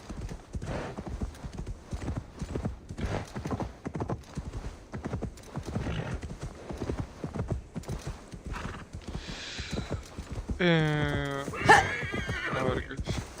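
Horse hooves clip-clop in a steady rapid rhythm throughout a ride in Assassin's Creed Valhalla, set in Gloucestershire, with a loud neigh and whinny near the end over the galloping.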